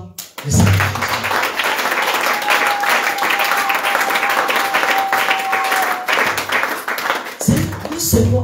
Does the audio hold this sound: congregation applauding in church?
yes